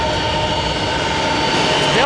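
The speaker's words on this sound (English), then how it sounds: "Bell Jet Rangers are operated by a lot of different folks." A Bell Jet Ranger helicopter flying overhead, a steady turbine and rotor drone holding at constant loudness throughout.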